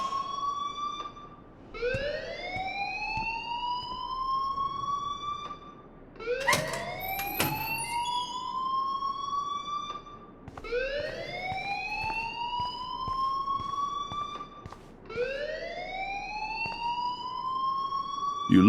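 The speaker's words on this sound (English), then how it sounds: "please turn off that alarm since that's your job" Alarm in the video game Life is Strange, sounding as a repeating rising electronic whoop that sweeps up and holds, about four cycles, loud and steady with a brief clatter in between.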